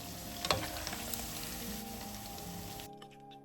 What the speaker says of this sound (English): Fry the beef until browned, then take it out.